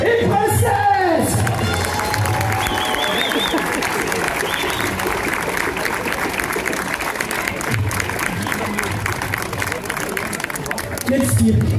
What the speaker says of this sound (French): Mesdames et messieurs, applaudissez Prince et Princesse.